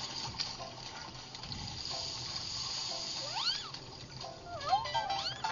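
In the mobile puzzle game Sprinkle, water sprays onto a fire with a soft, quiet hiss, joined by a few rising and falling electronic tones from the game.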